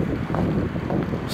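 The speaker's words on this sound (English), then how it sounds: "Still windy." Gusty wind buffets the microphone in a low, rumbling roar that surges and eases throughout.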